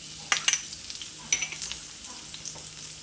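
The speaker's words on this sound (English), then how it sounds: "allow it to fry in the oil" Diced garlic and sliced ginger fry in hot oil over high heat, giving a steady close sizzle with a few sharp crackling pops near the start and again midway, then a softer, even hiss.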